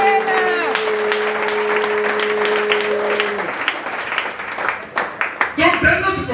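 A church congregation applauding during a sermon: dense, sustained clapping fills the room, loud and continuous, with a held musical tone underneath early on before the applause breaks into scattered, uneven claps and voices.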